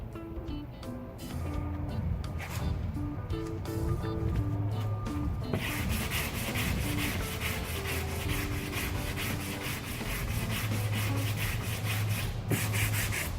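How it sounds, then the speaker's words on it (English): A cracked car bumper is hand sanded with an 80-grit sanding block in long, steady rasping strokes that rub continuously and closely over the surface. "I'm using a sanding block with 80 grit"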